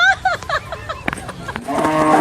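A buffalo lets out several short, close, wavering moos in quick succession, followed by a denser burst of low calling at the end.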